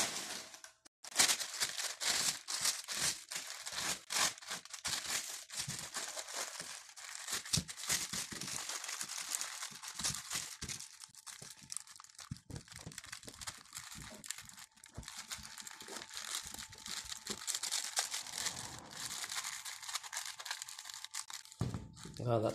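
Plastic shopping bags are crumpled and folded close by, with continuous crinkling and crackling and sharp rustling bursts, while people talk quietly at times.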